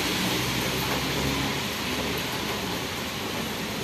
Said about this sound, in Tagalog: Umuulan yan guys.